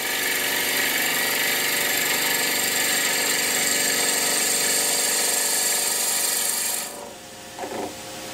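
Wood spinning on a turning lathe under a chisel used like a skew with the bevel rubbing, a loud steady rasping scrape that runs continuously, then cuts off abruptly near the end, leaving a quiet bump or two.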